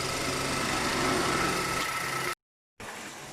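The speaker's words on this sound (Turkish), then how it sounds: "Aracımız çalışıyor şu an Allah'a şükür." A rebuilt Ford EcoBoost car engine runs steadily with a dense mechanical whir and fine ticking, fairly loud and close, broken by a short silent gap before the running sound resumes.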